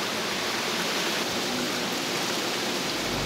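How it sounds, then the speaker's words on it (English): Heavy rain pours down in a dense, steady hiss, loud and unbroken throughout, in Turks and Caicos. "it just started pouring rain"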